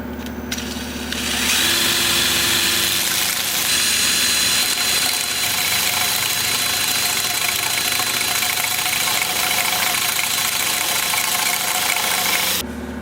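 Wood lathe spinning steadily as a four-legged square bowl is sanded with 80 grit, a loud continuous whirring hum with a faint high whine, running alone from start to finish before cutting off.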